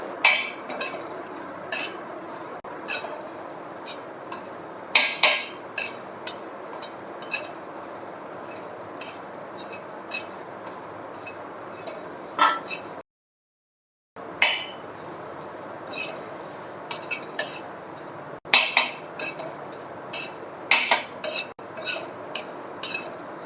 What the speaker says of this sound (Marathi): धनी, खसखस, खोबरं, तेजपत्ता ते सुद्धा कमी गॅसवर भाजून घ्यायचं आहे।